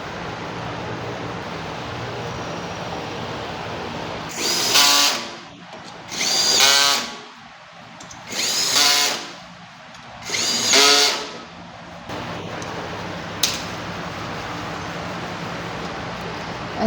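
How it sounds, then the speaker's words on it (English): A power drill driving screws into a compressed panel during assembly of a 16 kWh PC314 battery pack, with four separate loud whirring bursts of about a second each, evenly spaced over a steady background hum. "We start to fix the screws onto the compressed panel."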